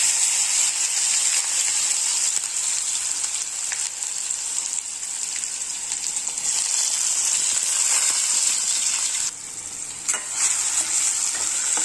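Tomato goes into a pan of chili and cumin already sizzling in oil for a green mung bean amti, giving a steady loud hiss of frying that continues throughout, with a brief dip near the end and no voices.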